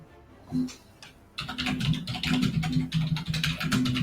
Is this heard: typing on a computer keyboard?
yes